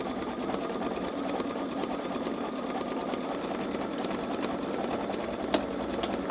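A Babylock Solaris Vision embroidery machine stitches a design, its steady, fast mechanical whir running evenly and close up throughout, with a single brief click near the end.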